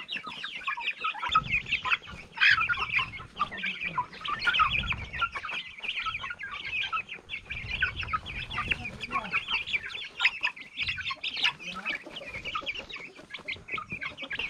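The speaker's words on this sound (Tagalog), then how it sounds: "Muna ako ipaila-ila akong mga bagong nga manok karon, bagong lahi." Silkie and Rhode Island Red cross chickens cluck and chatter steadily in a backyard, many birds overlapping in a busy, moderately close chorus with occasional louder calls and faint background talk.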